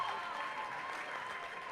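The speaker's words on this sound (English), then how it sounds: "Give Linny a round of applause." An audience applauds a contestant at a runway show, the clapping fairly faint and distant, a steady even patter with a faint tonal hum underneath.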